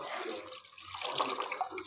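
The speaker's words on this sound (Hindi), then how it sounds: "एक गिलास पानी डालेंगे।" A glass of water poured into half a kilo of yogurt mixed with gram flour in a home kitchen, a short close splashing pour that thins briefly and then runs on, heard alone.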